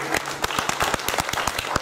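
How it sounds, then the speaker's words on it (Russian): Applause for a lieutenant colonel, deputy commander of the 45th Separate Guards Special Forces Regiment, at a concert: a short burst of steady, fairly close clapping from an audience, with individual claps standing out. "аплодисменты"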